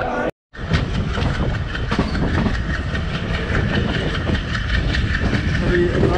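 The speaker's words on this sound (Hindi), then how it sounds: "ट्रेन चल रही है दूधसागर की तरफ" Passenger train travelling from Madgaon toward Dudhsagar in Goa, a steady loud rumble with rhythmic clickety-clack of wheels on rail joints, heard from inside the carriage throughout.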